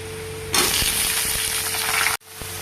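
Eggplant pieces go into a pan of potatoes and onions that are already frying. A loud, steady sizzle bursts in, with faint clinks of utensils, then cuts off briefly near the end, close up and without talk.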